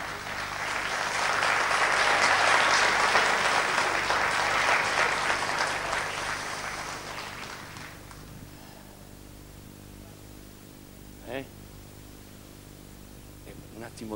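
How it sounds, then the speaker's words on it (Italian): A theatre audience at a live concert in Capua applauds for maestro Salvatore D'Angelo, a full swell of clapping that fades after several seconds into a quiet hall with a few brief sounds. "E al maestro Salvatore D'Angelo, merita anche un applauso"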